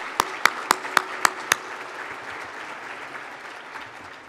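At a State of the City event in Portsmouth, Virginia, a few sharp individual claps ring out close by at the start, followed by a quieter, more diffuse spread of applause from the audience that gradually fades.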